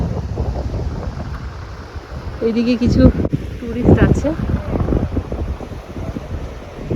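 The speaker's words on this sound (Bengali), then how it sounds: "এই সমুদ্রের পাড় দিয়ে হেঁটে বেড়াচ্ছি, চারিদিকে শুধু জল আর জল, চারিদিকে নৌকা ভাসছে" Wind buffets the microphone on a seashore at Mousuni Island with boats floating nearby, a steady low roar under a person speaking throughout.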